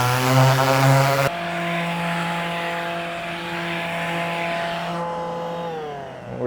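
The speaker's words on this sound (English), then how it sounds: "We're sanding these wide enough so that we don't have to resand again when we go to tab these from the underside later." A power sander works across fiberglass boat hull areas where bulkhead panels will be glued and tabbed, a steady loud whining buzz with a sharp pitch shift near the start and a change in tone toward the end.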